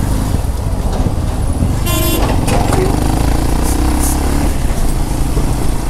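A motorcycle engine hums steadily while riding on a busy road in Uttar Pradesh, under a wash of traffic noise, with a few sharp horn toots from nearby vehicles.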